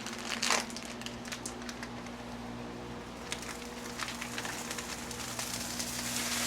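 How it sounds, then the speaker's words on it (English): Steady crackling sizzle of hot dogs frying in peanut oil on a griddle at medium heat, continuous and fairly close, with a low hum underneath and no talking. "Oh, listen to the sizzle."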